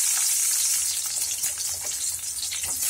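Garlic frying in oil in a pan for onion-tomato chutney: a continuous bright sizzling hiss, close and fairly steady, with faint clinks and stirring underneath.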